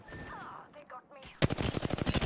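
Rapid automatic gunfire in the shooter game Apex Legends, a loud close burst of evenly spaced shots following brief game voice callouts.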